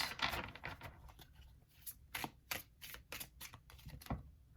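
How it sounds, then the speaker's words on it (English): Tarot cards are shuffled by hand, a soft run of quick riffling and flicking snaps, close and fairly quiet, with irregular bursts. "Cards are already flipping as I'm just shuffling them here."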